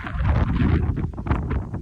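Wind gusts across a rooftop during solar panel installation, a loud rough rumble that swells and surges in bursts through the whole stretch.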